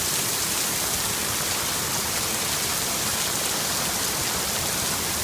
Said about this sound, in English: The rain seems to be calming down a bit.